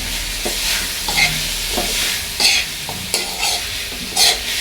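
Chicken being stirred in a pan with oyster sauce and Sprite in a home kitchen, a utensil scraping and clattering in repeated strokes every second or so over a steady close sizzle.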